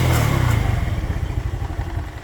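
A Genuine Buddy 125cc scooter engine fitted with a Chinese carburetor runs at a steady idle, close and loud, with an even low-pitched putter throughout.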